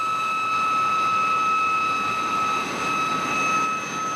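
An aircraft in an animated film roars steadily down a runway for takeoff, a loud, continuous engine drone with sustained whining tones and no voices over it.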